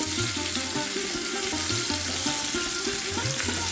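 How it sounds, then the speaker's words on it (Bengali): Pumpkin pieces sizzle and fry in a little hot oil in a kadai over low to medium flame, a steady close crackle with occasional stirring scrapes. "তেলটা গরম হয়ে যাওয়ার পরে কুমড়োগুলোকে আমি তেলের মধ্যে দিয়ে দিলাম।"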